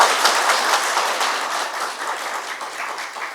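Dense crowd applause fills the open-air political rally at Tundikhel, a steady wash of many hands clapping that holds throughout and slowly eases toward the end, with no voice over it.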